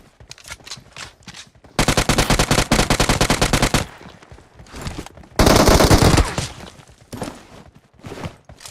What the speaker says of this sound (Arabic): والله طلقات